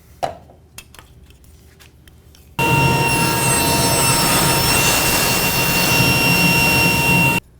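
Table saw ripping a thin 1/8 inch strip guided by a GRR-RIPPER push block: a few quiet knocks, then a loud, steady whining cut that holds evenly for about five seconds before stopping.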